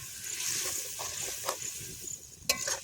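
Fried potatoes being stirred and sautéed in a pan of Bengali fish curry, a steady soft sizzle with occasional scraping clacks of a spoon, close and fairly quiet.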